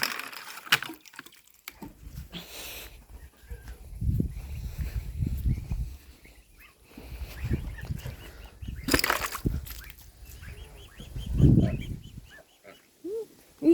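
Poultry squabbling and squawking in bursts over an empty feeder, close by and fairly quiet, with a person speaking at times over the noise.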